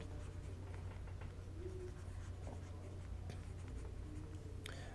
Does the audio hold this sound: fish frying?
no